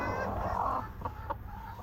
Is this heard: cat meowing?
no